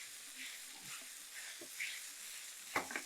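Cooked rice and potato are stirred together in a pan over a low flame, making a faint, soft sizzle with a few light spoon scrapes near the end.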